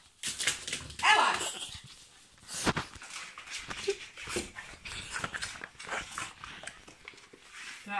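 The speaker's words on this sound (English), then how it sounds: "Oh, this flipping dog." A pet dog outdoors makes excited yips, whimpers and short barks in a busy, continuous stretch, close by and fairly loud, with no clear speech over it.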